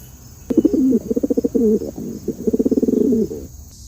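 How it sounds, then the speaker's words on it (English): A pigeon coos in a series of soft, throaty bursts, repeating rhythmically for a few seconds, close and clear with no talking. "A pigeon sun makes a cooing sound that sounds just like this."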